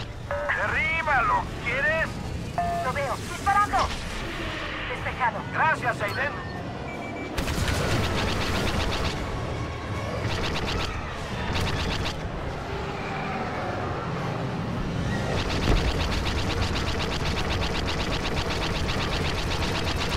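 Star Wars Battlefront II blaster fire crackles in repeated bursts amid game battle noise, fairly loud, with voices talking over stretches of it.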